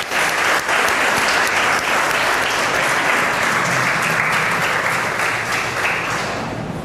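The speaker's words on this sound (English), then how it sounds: "Yes, right answer. Clap for Kanika." Students in a classroom break into loud, sustained applause, dense clapping from many hands continuing steadily for several seconds before tapering slightly at the end.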